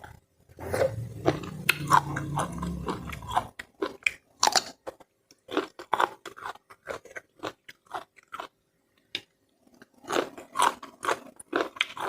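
Crunchy spicy Thai pounded bean salad is chewed close to the mic in rapid, loud bites, with a brief murmur of voice at the start and short pauses between mouthfuls.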